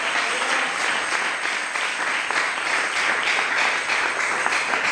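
A church audience applauds in a sustained, dense burst of clapping that holds steady and fairly loud from start to finish.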